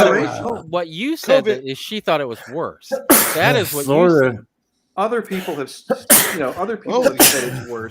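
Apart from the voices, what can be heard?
sneeze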